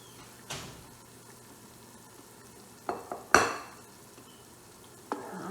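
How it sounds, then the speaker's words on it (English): Tomatoes for jollof rice fry in a pot under a faint sizzle, broken by a few sharp scraping stirs and clanks. "I have to fry these tomatoes, okay, so that it will reduce the liquid in it."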